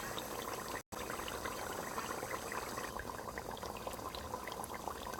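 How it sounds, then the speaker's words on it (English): Tomato sauce pouring into a pot of Ghanaian waakye stew, a steady wet hiss and gurgle with a brief cut near the start, and no talking. "at this time I'm going to add in the tomato sauce to it"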